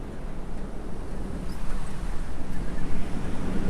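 Steady outdoor wind roaring and buffeting the microphone, a broad continuous rush that swells slightly louder toward the end, with no voices.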